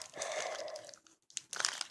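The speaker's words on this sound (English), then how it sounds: "we're opening a pretty nice looking Pokemon X and Y pack" A Pokemon X and Y card pack is torn open up close, with crisp foil crinkling, a short pause, then more rustling and tearing.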